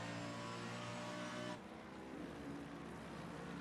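Mercedes and Ferrari race cars in a sim racing game drone with a sustained engine tone that shifts abruptly partway through, moderately loud and continuous.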